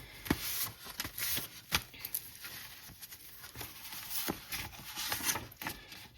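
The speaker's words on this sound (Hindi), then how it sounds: "यहाँ पे कुछ हैंडमेड कार्ड्स हैं, तो मैं रेंडमली कुछ कार्ड्स पिक करूंगी आपके लिए" Handmade tarot cards are shuffled and handled close up, giving a run of quick papery riffles and soft taps in uneven bursts, fairly quiet with no talking.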